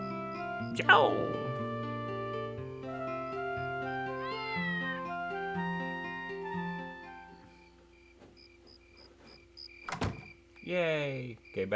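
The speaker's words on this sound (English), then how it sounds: "go in here, meet the little kitty" Cat meows from the Dark Cloud video game ring out amid tonal game music, with a sharp meow near the start, a sliding call midway and another sweeping cry near the end, alongside a brief crash.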